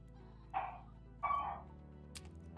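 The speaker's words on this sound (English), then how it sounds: "Somebody upset the dog." A dog barks twice, fairly faint and somewhat distant, with short separated yelps over a low steady hum and no talking.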